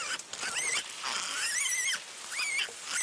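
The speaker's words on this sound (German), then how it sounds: "das Schweinchen lässt sich nicht gern tragen und quiekt ganz furchtbar" A piglet squeals shrilly while being carried on an island, with loud, close bursts of high, wavering squeals broken by short pauses.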